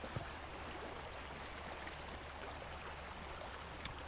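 Flowing water of Study Creek, a quiet steady outdoor burble and rush heard from a short distance, continuous and unbroken, with no talking.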